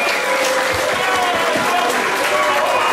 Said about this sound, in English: So please give a big round of applause for yourselves.